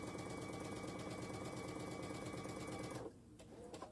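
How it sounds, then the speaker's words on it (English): A sewing machine stitching together quilt block squares, running in a steady continuous hum with a fast mechanical needle rhythm, faint and close, then stopping abruptly near the end, leaving a few light clicks. "then we can start stitching down the other side"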